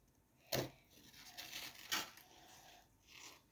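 Paper tears in two sharp, close rips about a second apart, with softer rustling and crinkling between them.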